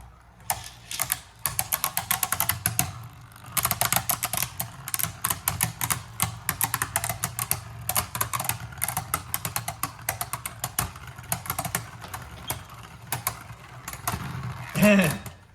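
Beyblade Burst tops, including Vanish Balkesh and Arc Balkesh, spin and clash in a stadium. They make a dense, rapid rattling of scraping and clicking impacts that runs nearly continuously up close, with brief pauses, while a voice talks over it.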